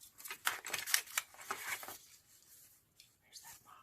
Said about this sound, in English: and I'm just going to get that cut